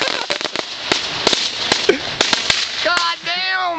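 A Flaming Box consumer firework going off at a July 4th celebration outdoors, a rapid irregular string of sharp crackling pops and bangs, ending in fizzing whistles, loud and close.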